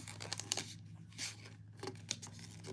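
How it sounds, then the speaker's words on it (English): Sublimation paper being folded back along a seam gives close, soft crinkling and rustling with a few sharper crackles over a low background hum. "I'm taking where the seam is and I'm just folding it"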